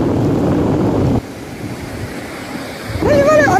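Ocean surf rushes onto a beach during a first visit to the sea, loud and close for a moment before dropping to a softer wash, with excited voices rising near the end.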